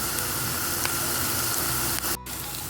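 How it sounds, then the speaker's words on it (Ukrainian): Mushroom cutlets fry in a pan with a steady, loud sizzle of hot oil, broken by a brief gap near the end. "як смажаться котлети."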